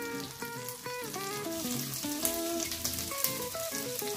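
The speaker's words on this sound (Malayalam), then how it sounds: "നന്നായിട്ട് തിരിച്ചും മറിച്ചും രണ്ട് സൈഡും നന്നായിട്ട് ഫ്രൈ ചെയ്തെടുക്കുക" Tiger prawn sticks frying in hot oil, a steady close sizzle with crackling pops throughout, music-like tones over it and no talk.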